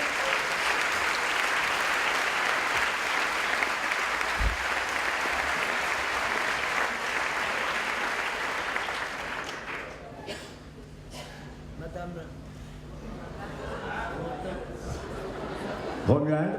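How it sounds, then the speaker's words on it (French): Sustained, loud audience applause at a vocational diploma ceremony in Vaud, Switzerland, fills the first ten seconds before thinning into scattered claps with chatter and a few chuckles. "j'appelle monsieur Jacques Pernet, s'il vous plaît, qu'on peut applaudir"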